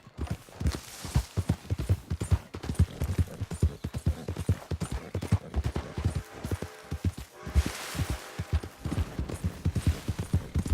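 Horse hooves clip-clop in a quick steady rhythm in Red Dead Redemption 2, loud and close with no talking.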